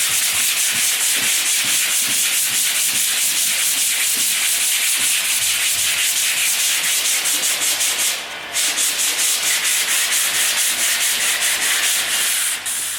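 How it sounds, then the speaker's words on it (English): Sandpaper of 120 grit rubs steadily across a repaired, painted-ready wall in quick back-and-forth strokes, a close, continuous scratchy hiss with no talking. "you can then give it a light sand with 120 grit sandpaper"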